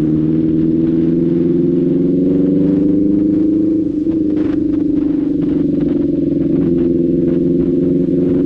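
A superbike engine drones steadily and loudly while riding, a dense continuous rumble with slight pitch shifts and wind noise, no voices over it.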